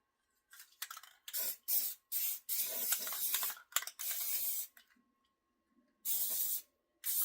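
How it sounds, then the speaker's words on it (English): Rust-Oleum spray paint hisses from a can onto doors in a series of short and longer bursts separated by pauses, close and crisp, with faint can rattling between sprays. "And I am going to spray the inside of the doors because that part you're going to see."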